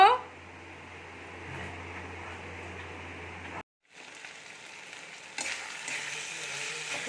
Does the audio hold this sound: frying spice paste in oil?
yes